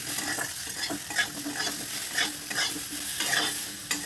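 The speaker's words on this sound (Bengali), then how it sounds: "এবার খুব ভালো করে নাড়াচাড়া করব" Vegetables stir-fried in a pan with salt, turmeric and only a little oil: a steady close sizzle with repeated scraping stirs layered on top and no speech.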